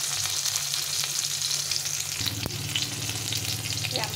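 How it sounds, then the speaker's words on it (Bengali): Mango pieces frying in hot oil for a fish curry, a steady close sizzle that thickens and grows louder midway, with a brief clink and no talking. "আমটাকে একটু কিছুক্ষণ ধরে ভেজে নিতে হবে।"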